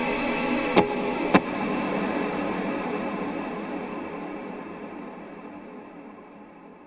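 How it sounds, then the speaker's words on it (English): Electric guitar played through Jet Revelation and Eternity pedals with reverb pre-delay, two sharp picked notes near the start ringing into a long, washy reverb tail that slowly fades. "It adds 100 milliseconds between my picking tone and when the reverb comes in, and you can kind of hear it"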